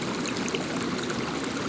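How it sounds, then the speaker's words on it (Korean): Clear water of a stream flows in a constant bright babble and trickle, close and full, with no voices. "오늘은 맑은 물소리를 들으면서"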